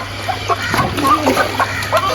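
Several chickens being bathed in intense heat cluck in short, irregular bursts close by, over a steady low background hum.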